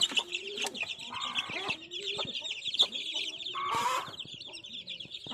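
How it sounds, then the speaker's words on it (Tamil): Chickens and young chicks on a farm in a village in Thoothukudi district, Tamil Nadu, making repeated clucks and chirps, with a rooster-like call and other bird sounds around them, fairly close and steady throughout. "மொத்தம் 45 குஞ்சு 50 குஞ்சு தேருன்னு நினைக்கிறேன்."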